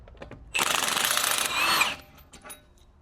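A power tool runs in one steady burst for about a second and a half, undoing a strut bolt on a BMW i3 with a sheared motor mount bolt and damaged CV axle, then winds down, leaving faint workshop clatter.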